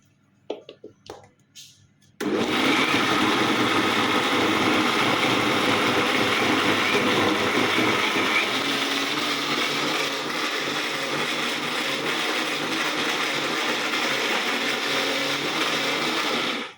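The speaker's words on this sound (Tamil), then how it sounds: "இன்னும் மிக்ஸி ஓடுறது அம்மா கத்துற மாதிரில இருக்கு" A mixer grinder churns cake batter with milk, kicking on abruptly after a few soft clicks and then whirring loudly and continuously with a harsh motor drone until it cuts off.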